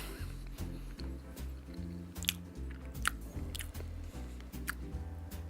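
Chewing and crunchy bites on a Ukrainian sponge cake snack, close to the mouth, with soft repeated munches over a steady background of music.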